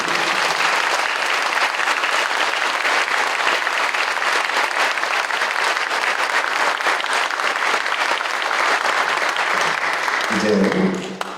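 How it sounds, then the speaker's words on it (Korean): A church congregation applauds at a pastor's retirement service in a large Seoul sanctuary, a dense, loud, sustained wash of clapping for about ten seconds before it quickly dies away. "한번 큰 박수로"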